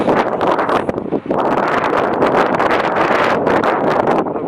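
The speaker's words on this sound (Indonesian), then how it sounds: "Tapi ini alhamdulillah badai cuman angin aja, nggak ditambah hujan." Strong wind storm buffets a microphone on Mount Rinjani, a loud continuous roar with gusty surges and a brief dip just after the first second, with no voices.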